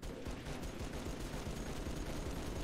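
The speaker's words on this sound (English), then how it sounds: "Did you just shoot me?" Continuous gunfire from the Halo 3: ODST video game, a steady dense rattle of shots and low booms running without a break.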